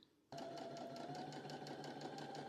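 A sewing machine stitching sheer see-through fabric for a dress waistband starts abruptly and runs in a steady, rapid, close mechanical chatter.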